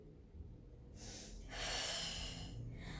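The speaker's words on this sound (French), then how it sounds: "Inspirez, soufflez." A deep breath during an abdominal strengthening workout: a soft intake, then a strong, audible exhale that swells through the middle, up close and alone.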